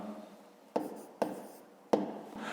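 Pen or marker strokes on a board or paper while working a fifth-grade math exercise, three short, distinct scratches spaced about half a second apart, close and fairly quiet with no talking.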